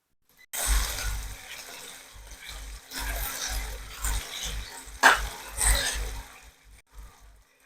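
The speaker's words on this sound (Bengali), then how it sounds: "আলুটা লাল লাল করে ভেজে নেব" Potato pieces fry in a pan with a continuous close sizzle, broken by stirring scrapes and a sharp clink partway through.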